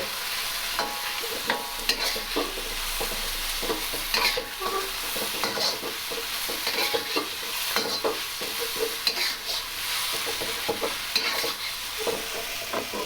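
Shrimp lo mein being stir-fried in a pan over medium-high heat, with steady sizzling and frequent scraping, clacking strokes of a utensil tossing the noodles, close and continuous with no talking.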